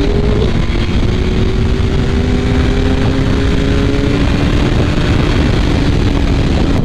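A BMW S1000RR motorcycle engine while riding, heard as a loud, constant drone with a steady rising pitch mixed into heavy wind rush, close and unbroken throughout.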